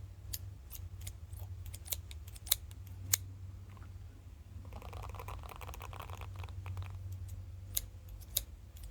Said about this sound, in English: we are still gonna use these big scissors